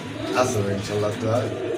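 Domestic and foreign pigeons at a pigeon market coo in low, throaty bursts, fairly close, while people talk over them throughout.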